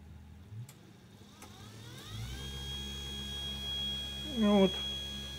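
A 24 V electric motor rigidly coupled through a machined adapter to an induction encoder with ABZ output powers up from rest, a rising whine settling into a steady, smooth hum with a brief louder rattle near the end.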